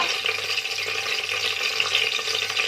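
Vegetables sizzle steadily in a pan for vegetable biryani, a dense, even hiss of frying that carries on without pause, moderately loud and close, with no talk over it.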